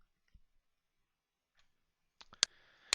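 A computer keyboard's tab key is pressed, producing a few sharp, quiet clicks near the end after mostly silence, with faint small ticks earlier.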